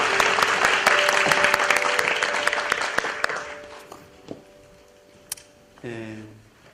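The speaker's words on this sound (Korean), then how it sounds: "우리 시간 하나님께 영광의 박수 한번 힘차게 한번 드릴까요?" Korean church congregation applauding in praise, a loud dense round of clapping with sustained keyboard tones beneath that dies away after a few seconds, leaving scattered claps and a brief sung or spoken phrase at the end.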